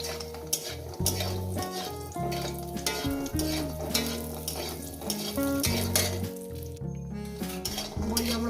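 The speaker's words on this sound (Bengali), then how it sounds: "বড়িগুলো আগে ভেজে নেব" Bori (lentil dumplings) frying in hot oil in a still-hot kadai, a close steady sizzle broken by clinks and scrapes of a utensil stirring against the pan.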